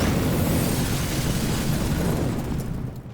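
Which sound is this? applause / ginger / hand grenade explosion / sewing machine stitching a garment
hand grenade explosion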